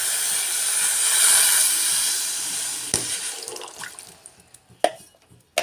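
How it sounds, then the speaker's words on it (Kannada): Water is poured from above onto sugar in a pan to make rasgulla syrup, a steady rushing splash for about three seconds that thins into a few drips and light clinks. "ಇದಕ್ಕೆ ಒಂದು ಅರ್ಧ ಲೀಟ್ರದಷ್ಟು ನೀರು ಹಾಕ್ಕೋತೀನಿ ರೀ."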